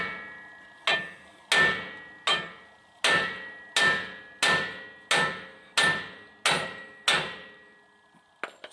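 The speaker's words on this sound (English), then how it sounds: "You want to hit this yoke" A hammer strikes a steel driveshaft yoke on a 2008–2014 Ford F150 about ten times in a steady rhythm. Each blow is a loud, ringing metallic clang that decays before the next, with a few lighter clatters at the end.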